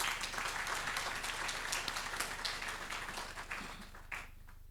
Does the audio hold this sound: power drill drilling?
no